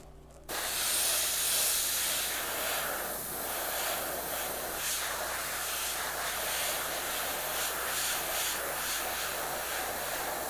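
An airbrush spraying paint onto a dollar-store holiday ornament, starting abruptly as a continuous close airy hiss that holds steady with slight fluctuations and small sputters, with no talking.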